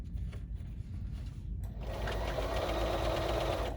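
A BERNINA sewing machine sews an invisible zipper with a quick, steady mechanical whir and stitching rattle. A soft motor hum comes first, then the sewing becomes louder and continuous.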